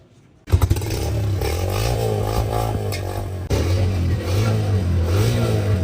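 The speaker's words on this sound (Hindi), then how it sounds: "अब बस यहाँ से बाइक लेके निकलना है हमने" A motorcycle engine starts up and revs as the bike rides out of a shop, loud and close, with a steady low drone that jumps in intensity partway through.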